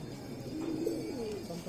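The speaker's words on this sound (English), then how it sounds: "There are many pigeons." Pigeons coo softly at the Swayambhu stupa in Kathmandu, a low murmuring call set against steady outdoor ambience.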